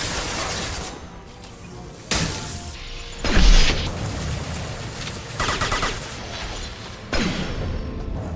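Gunfire in the video game Dispatch comes as loud, sharp bursts and booming shots that repeat every second or two over a constant background din.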